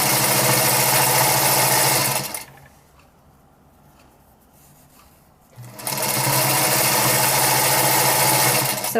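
A sewing machine stitches along a folded fabric edge on a drawstring bag made from old pants, running loud and steady up close, pausing for about three seconds of near quiet, then humming on again.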